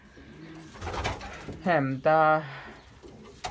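Young pigeons recovering from illness give a couple of close, loud, throaty coos in quick succession, with a short spoken word and faint background noise around them.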